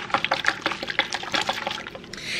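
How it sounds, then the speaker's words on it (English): Lemon juice is poured into a sauce for Greek turkey burgers, a close, splashy trickle of liquid with uneven bursts that eases off toward the end. "And then we're gonna add in some lemon juice."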